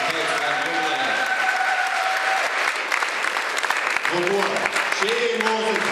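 At the Porridge Day 25th anniversary celebration, an audience claps loudly and continuously, with sustained music tones running underneath the dense applause.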